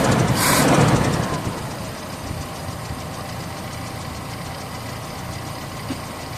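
The engine of a Toyota Tamaraw FX idles steadily at close range after a short louder burst at the start, a low, even mechanical rumble with no talk over it.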